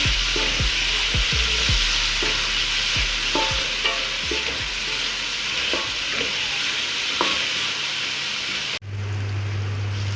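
Ridge gourd seeds and onion frying in oil for stuffed tinda: a loud, continuous close sizzle punctuated by repeated scraping stirs. It cuts abruptly near the end to a low hum.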